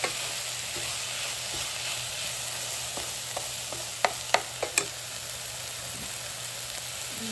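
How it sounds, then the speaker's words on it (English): Lentils and onion sautéing in a pot give a steady soft sizzle close by, with a few sharp clicks and scrapes of stirring partway through, and no talking. "Let's saute the lentils with the onion."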